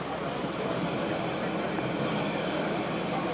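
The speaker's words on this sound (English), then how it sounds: "während Piotr die MiG-29 landet" Jet aircraft noise from a MiG-29 fighter landing at an air display, a steady, broad, continuous roar filling the whole clip at moderate distance, with no talk over it.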